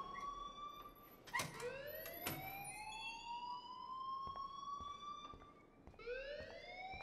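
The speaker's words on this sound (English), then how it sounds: "please turn off that alarm since that's your job" An alarm rings inside the video game Life is Strange, sounding as a steady, loud warbling electronic siren with rising and falling sweeps that repeat, heard alone with no talk.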